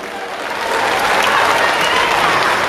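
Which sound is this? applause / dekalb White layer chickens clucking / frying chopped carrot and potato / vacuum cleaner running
applause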